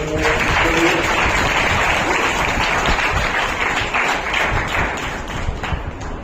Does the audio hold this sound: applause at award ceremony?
yes